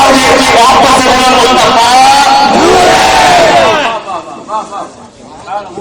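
A large religious gathering chants slogans in praise of the Prophet, a loud massed roar of voices sustained for about four seconds before breaking into scattered quieter calls.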